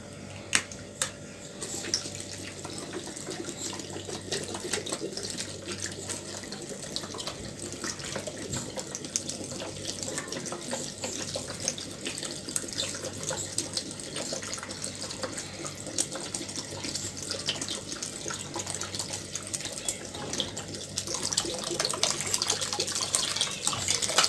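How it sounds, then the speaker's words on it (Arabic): Cold tap water running steadily into a large bowl of potatoes cut into fingers, a continuous close hiss and splash that builds slightly louder toward the end. "بعد ما حطينا ميه ساقعه"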